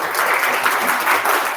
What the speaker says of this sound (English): If you could give them a big round of applause.